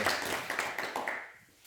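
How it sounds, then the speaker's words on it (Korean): A small group of visitors at a farm training session with an agricultural master gives a short burst of clapping, close and fairly loud at first, then thinning out toward the end. "박수로 저희 인사드리도록 할게요"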